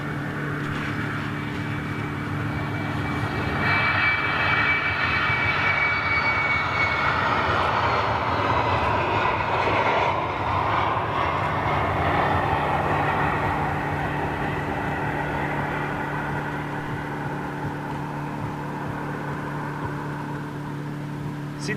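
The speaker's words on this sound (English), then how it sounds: "Oh, little Embraer going out." A small Embraer jet departs at Amsterdam Schiphol, its engines giving a steady, fairly loud roar with a tonal whine that holds throughout and eases slightly toward the end.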